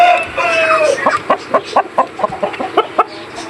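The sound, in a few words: chickens clucking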